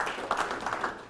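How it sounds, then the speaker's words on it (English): An audience at a fall sports media day claps for a track and field head coach, a moderate, even patter of applause lasting about a second. "let's give a big round of applause to Mike Heimerman"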